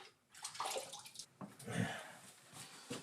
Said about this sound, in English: I'm going to take it out, rinse it.